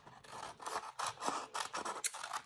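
Scissors snipping the little corners off a sheet of paper for a spring art craft, a run of quick, close, crisp cuts in an uneven rhythm with short pauses between snips.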